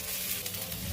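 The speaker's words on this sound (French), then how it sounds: "on va faire revenir des oignons" Onions fry in a drizzle of oil in a pan on a gas stove, giving a brief, steady hiss and sizzle with no speech.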